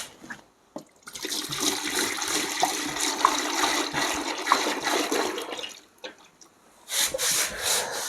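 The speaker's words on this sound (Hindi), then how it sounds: "अब हम लोग इसमें क्या डीपी ऑयल 2 kg डालेंगे।" DEP oil being poured into a bucket for dipping agarbatti incense sticks, a steady liquid gush for several seconds, then a brief pause and a second short pour.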